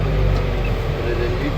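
A John Deere tractor pulls into a field, its engine giving a steady, close low rumble and drone that runs the whole time.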